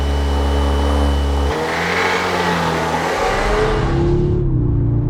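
Audi S3 accelerating hard, engine revving up through the gears with a brief dip at a shift, loud and close from inside the car, no talk.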